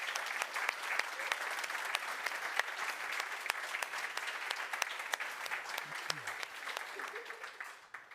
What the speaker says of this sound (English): give a warm round of applause for all the sponsors who make this conference possible